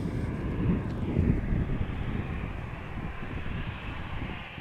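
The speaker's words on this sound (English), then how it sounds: "EasyJet time once again. Although this time around it is a special livery, the Berlin Bear." An easyJet airliner in the Berlin Bear special livery, seen at Amsterdam, gives a steady, moderately loud engine roar with wind rumble, holding fairly even throughout.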